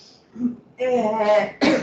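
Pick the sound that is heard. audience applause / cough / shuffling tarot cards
cough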